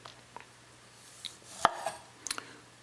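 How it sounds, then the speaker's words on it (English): A knife chops a tomato on a cutting board in a kitchen, giving a few sparse, sharp taps at irregular intervals against a quiet background. "cut some tomato here"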